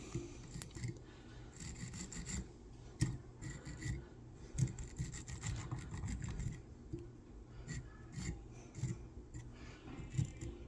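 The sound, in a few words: brushing out a tied fly with Stonfo Velcro brush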